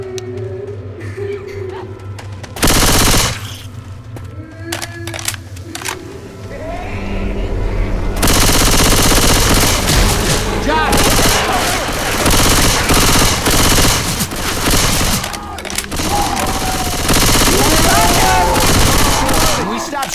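Sustained automatic gunfire from Left 4 Dead 2 in a haunted forest, dense bursts that rise from a sharp early blast into a continuous loud fusillade, with voices calling out over it.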